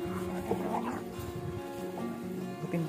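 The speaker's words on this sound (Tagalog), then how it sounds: "May aso." A dog near a waterfall trail in Samar gives a few faint yips and whimpers, brief and quiet, mixed with people talking nearby.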